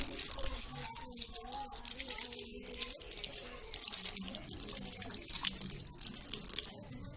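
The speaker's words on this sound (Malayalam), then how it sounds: "നല്ല വെള്ളത്തിൽ വേണം കഴുകാൻ." Banana leaves being washed under a running tap in a sink, a steady close wash of splashing water with small drips and soft crinkling handling sounds throughout.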